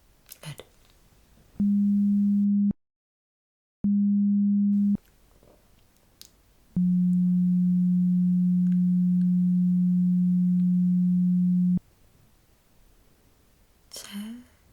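Pure sine beeps of a hearing test sound in a quiet room: two short tones in quick succession, then one long steady tone, with faint whispering and rustling around them.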